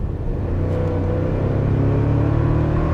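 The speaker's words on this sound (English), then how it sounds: "As you're accelerating the car, I will say again, with the i-Force engine and everything, and it has a turbo too" A 2024 Toyota Tacoma TRD Off Road with the turbocharged i-Force engine accelerating, heard from inside the cab as a loud, steady low rumble and whir that builds slightly and holds throughout.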